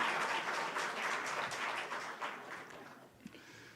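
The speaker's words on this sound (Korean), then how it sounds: "우리 송조록 간사님 박수로 우리 격려했으면 좋겠습니다" A church congregation at a Friday prayer meeting applauds a worship leader, a full round of clapping that gradually thins and fades out toward the end, with a few scattered claps left.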